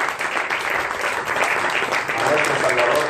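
Church congregation at a Christian service in Austin, Texas, applauding steadily throughout, a dense continuous wash of clapping hands with a few voices mixed in.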